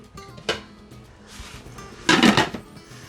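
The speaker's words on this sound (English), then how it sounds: "I'm going to put the lid on here" A lid is set on a pot of rice cooking for a shrimp pilaf, with a short metallic clink followed by a louder clattering rattle as it settles into place.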